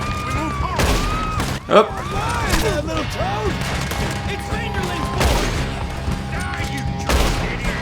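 Gunshots ring out in Red Dead Redemption 2, several sharp, loud cracks spaced a few seconds apart over an ongoing musical score, with a person briefly speaking.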